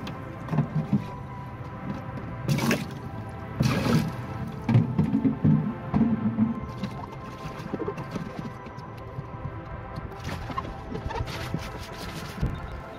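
Water splashes and pours while a fridge box being set up as an aquarium tank is washed and rinsed. Irregular sloshing and dripping bursts come from close by, with faint bird calls in the background.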